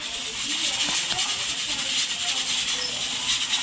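A cooking fire burns under pots of pasta water and meat, giving a steady, close hissing roar throughout while a person talks over it.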